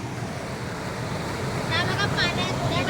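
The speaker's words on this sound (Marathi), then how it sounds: "केवढा मोठा पाण्याचा जोत आहे" Strong current of a village river at Dasturi, Khed in Ratnagiri, rushing past rocks where crab traps are set, a steady loud broadband roar that swells in the second half with faint voices in the background.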